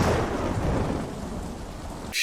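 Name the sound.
lightning strike and thunder in The Dark Knight Returns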